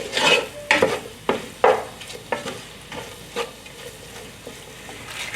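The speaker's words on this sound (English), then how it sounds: "So we're going to cook the spices for a few minutes" Spices frying in a pan for curry soup, a soft sizzle under a series of sharp metallic spoon scrapes and taps that come quicker early on and then thin out, fairly quiet and close.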